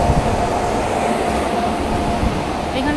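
Inside an Asansol to Barddhaman MEMU train, a loud, steady rumble of the carriage fills the clip, a close and continuous low roar with faint background hum.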